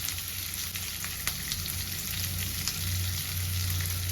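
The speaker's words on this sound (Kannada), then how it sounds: "ಈರುಳ್ಳಿ ಹಾಕ್ತಾ ಇದ್ದೀವಿ. ಆನಿಯನ್ ಚೆನ್ನಾಗಿ ಫ್ರೈ ಆಗಲಿ." Onions fry in a pan for a Kannada bassaru lentil dish, giving a steady, close crackling sizzle with scattered small pops and no voices.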